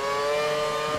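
A Formula 1 car engine in the F1 2013 racing game drones steadily at high revs while lapping the track, a continuous buzzing whine with no break.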